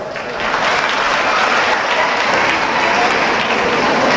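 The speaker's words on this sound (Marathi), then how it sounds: "त्याच्यासाठी जोरदार टाळ्या वाजवा" An audience at a comedic public speech claps loudly and steadily in dense, continuous applause for about four seconds, close and sustained with no pause.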